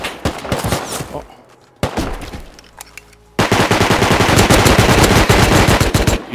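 Loud, close automatic gunfire in a shooter video game, rapid machine-gun bursts with a short pause in the middle, then a long sustained stream of shots to the end.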